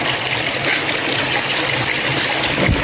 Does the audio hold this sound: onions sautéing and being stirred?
no